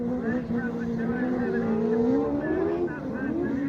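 Autograss racing cars in the UK drive past on a dirt track, a loud, continuous engine drone with shifting revs and a gritty roar, heard alongside talk.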